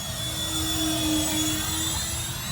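An E-flite A-10 Thunderbolt II RC jet with twin 64mm electric ducted fans flies slowly overhead, giving a steady, loud, whining whoosh with a droning hum. The sound is continuous, with no talk.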